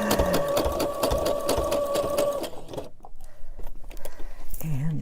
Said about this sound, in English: I am awkwardly in a position trying to sew this